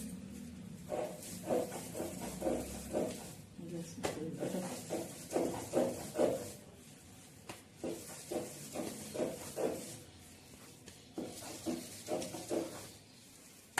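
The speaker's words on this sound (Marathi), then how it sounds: "हे बघा आता मी पुरण वाटते" Cooked chana dal is ground into puran by hand on a flat stone grinding slab, giving faint, rhythmic scraping strokes in repeated bursts with short pauses between rounds.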